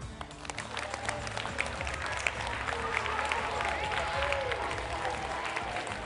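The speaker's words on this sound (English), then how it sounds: "Turn to your teacher and give them a clap." Students in a large room clap for their teachers at a youth ocean-education event, a sustained, dense round of applause that carries steadily from start to finish with the murmur of a crowd beneath it.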